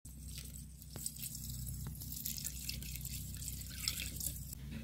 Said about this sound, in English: So we're gonna pour that in there